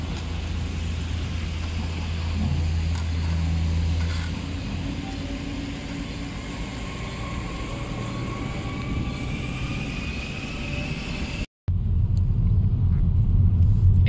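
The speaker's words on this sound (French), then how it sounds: "Il y a des voitures qui circulent là." Cars pass along the snow-cleared streets and embankments of central Moscow near the Kremlin during a record snowy winter. A continuous low traffic rumble carries rising and falling engine tones, broken by a brief dropout near the end.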